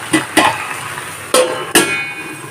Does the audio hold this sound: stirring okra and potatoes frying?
yes